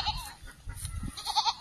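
A goat bleats twice, short nasal cries at the start and near the end, close by, with faint low background noise between them.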